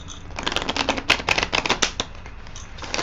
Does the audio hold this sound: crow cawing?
no